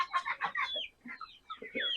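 Hens clucking with higher chirps from broiler chicks, a busy cluster of calls close by, pausing briefly before more peeping and clucking.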